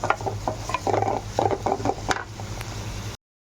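Food sautéing in a pan in a home kitchen, with a steady close sizzle broken by scattered scrapes and knocks of a spoon against the pan, everything at moderate level and no voices.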